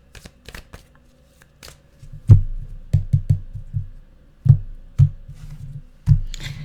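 A deck of tarot cards is shuffled by hand in a series of crisp riffles and soft slaps, starting with light taps and then building into a steady rhythm of loud, close bursts, heard alone without talk.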